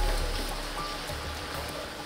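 Steady rain falls outdoors in a dense, even hiss, close and continuous with no breaks.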